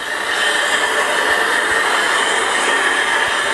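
Model railway P2 and Stanier Black 5 locomotives running on the same track, giving a steady loud whirring rumble with faint rail clicks, continuous and close, with no talking.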